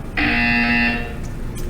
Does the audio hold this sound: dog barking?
no